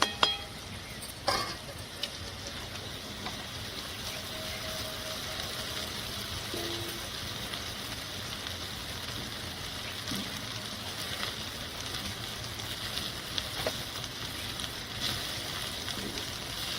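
Soaked sabudana is stirred into potatoes frying in a pan, a steady low sizzle running throughout with a few clinks and scrapes of a spoon against the pan near the start, no talk.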